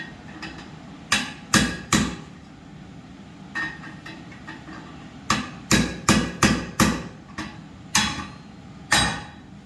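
A blacksmith hammers a piece of metal into an upset square corner, striking sharp ringing blows in irregular clusters, some single and some in quick runs of several, with quiet gaps between.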